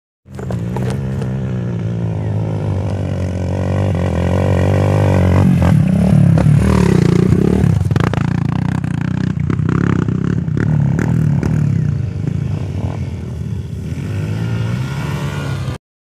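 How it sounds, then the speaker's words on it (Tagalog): Dirt bike motorcycles climb a mountain trail in DRT, Bulacan, with engines revving and labouring loudly nearby, rising and falling through gear changes amid clattering and scraping over rough ground. "Ito po yung mga motor namin."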